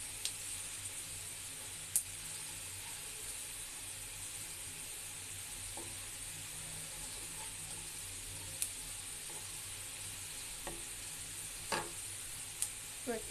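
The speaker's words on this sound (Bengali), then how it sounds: "এর মধ্যে আমি কিছুটা জিরা আর কালো জিরা ফোড়ন দিব।" Cumin and black cumin tempering in hot oil beside browning onions for a vegetable and black gram dal dish, a faint steady hiss with a few sharp isolated pops and clicks scattered throughout.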